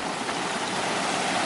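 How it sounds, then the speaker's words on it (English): Flowing stream water at a river crossing on a trail, a steady dense rushing wash, close and continuous, with no voices. "sounds like a river crossing ahead"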